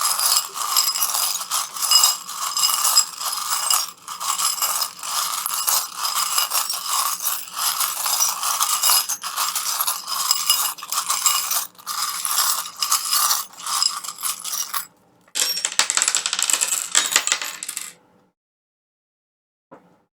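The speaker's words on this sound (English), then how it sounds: "I'm going to shuffle the charms." Small metal charms shuffled and cast onto paper for a charm-reading, a long run of dense jingling, clicking rattles with brief pauses, then a final burst of clatter before silence.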